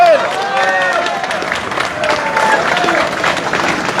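A crowd applauds a man named Michel at a farmers' event tied to the Tour de France, with clapping and some cheering spread across the clip and voices mixed in over it.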